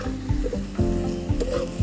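A spatula scrapes rhythmically, about twice a second, through a sandga (dried lentil dumpling) vegetable dish topped with finely chopped coriander, over a steady close sizzle in the pan.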